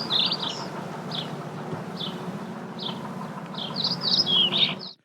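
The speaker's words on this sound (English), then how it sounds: "Now, the correct sound of birds." Short bright bird chirps repeat at intervals over a low buzzing hum, growing denser and louder toward the end before cutting off abruptly.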